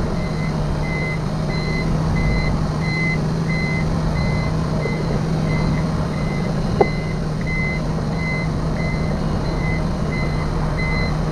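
A truck reverses into a factory, its warning alarm beeping at an even repeating rhythm over a steady diesel engine rumble.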